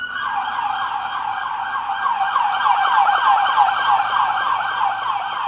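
A loud emergency siren on Main Street in Marion, North Carolina yelps in a fast, repeating warble close by, continuous for several seconds with no voices.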